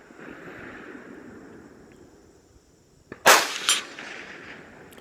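Rifle shots from a Savage 93 BSEV at an outdoor practice range with targets at various distances: a sharp loud crack followed moments later by a second report, over steady background noise.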